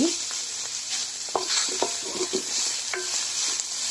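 A spoon stirs a sizzling mixture in a frying pan while samosa filling cooks, giving steady close frying hiss broken by irregular scraping knocks.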